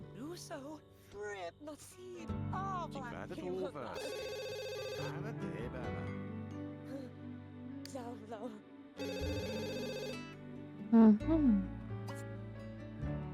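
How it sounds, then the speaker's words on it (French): A phone rings inside The Sims 2, a steady repeating electronic ring heard over the game's melodic background music, at moderate loudness. "réponds-moi à ce téléphone parce que c'est chiant"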